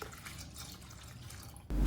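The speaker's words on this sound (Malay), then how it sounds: "Masukkan air kelapa dalam besen tu." Coconut water poured into a basin while making apam lenggang batter, a soft low trickle that bursts into a louder rush of liquid near the end.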